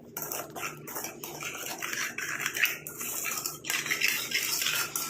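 A spoon scrapes and stirs a thick aloe vera gel hair mixture in a bowl, giving steady, repeated close-up rubbing and clinking strokes without any talking.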